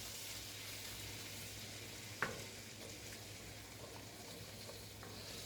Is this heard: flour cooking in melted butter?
yes